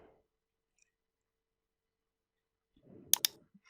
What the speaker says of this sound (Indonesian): Saya klik aja di tempat yang kosong ini